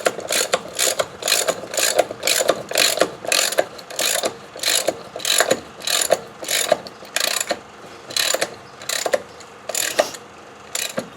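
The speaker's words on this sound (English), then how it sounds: "I'm going to crank this bolt until this other foot is perpendicular to the rim" A hand ratchet cranks a bolt on a tire-bead breaking tool against a wheel rim, giving a close, steady series of sharp clicking bursts, roughly two per second, each followed by a brief pause, with no talking.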